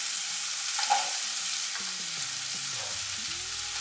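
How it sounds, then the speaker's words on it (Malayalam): Sliced onion sizzles in a pan of cooked tomato masala for bitter gourd stir fry, a steady close frying hiss with a few soft stirring clacks. "ഈ സവാളയും കൂടെ ഇതിൻ്റെ കൂടെ ചേർത്ത് വഴറ്റാണ്"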